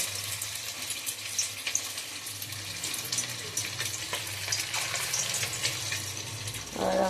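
Chicken marinated with onion paste is lowered into hot oil in a home kitchen, giving a steady close hiss and sizzle with small crackles and a brief louder burst near the end, and no talking.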